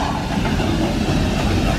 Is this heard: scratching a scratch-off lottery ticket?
no